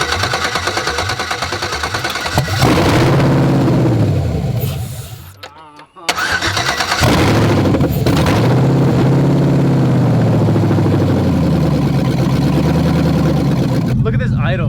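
An LS V8 swapped into a Chevrolet S10 truck runs loud and close, its steady engine note cutting out briefly partway through before resuming, with people talking over it.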